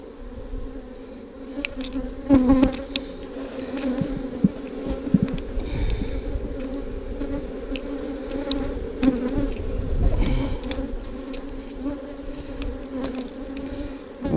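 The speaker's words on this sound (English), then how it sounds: "A lot of bees in here." Honey bees swarm in an open hive during an inspection, giving a close, dense buzzing drone that holds steady throughout, with occasional frame knocks.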